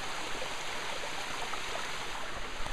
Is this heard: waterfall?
yes